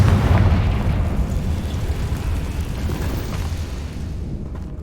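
Blasting spell explosion in a Harry Potter video game, a loud, sustained rumbling boom that slowly fades over several seconds.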